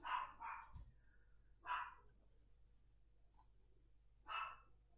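A dog indoors barks at someone passing in the street outside, giving a few sharp, separate barks with quiet gaps between them, heard from a moderate distance at a soft level.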